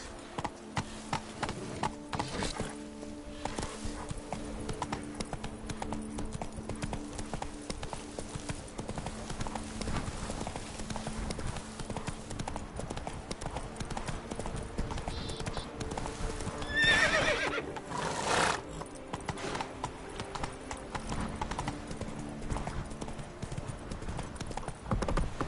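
A horse in The Witcher 3: Blood and Wine gallops with rapid rhythmic hoofbeats and a whinny, steady and close throughout, with brief speech over it.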